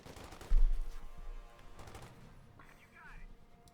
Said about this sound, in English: they're being suppressed with the 50 caliber